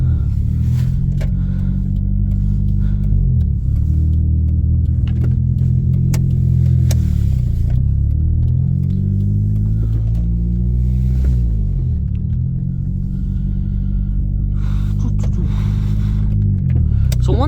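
A 1995 Ford Probe driving through a residential development, heard from inside, with a loud steady engine drone that rises and falls as it accelerates and shifts, continuous throughout.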